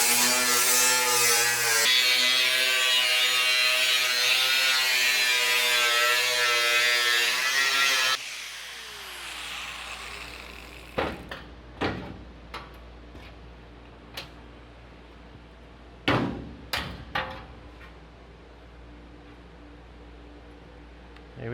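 Sheet metal corner being cut during a window conversion roof job, a loud steady buzzing power-tool drone for about eight seconds, then scattered sharp metallic clicks and clanks at close range.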